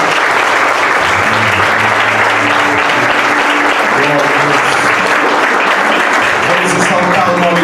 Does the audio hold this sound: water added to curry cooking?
no